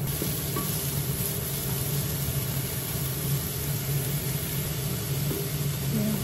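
Mixed vegetables, bean sprouts, cabbage and carrots, are stir-fried for crispy noodles, a constant close sizzle and hiss with light stirring scrapes and no talking.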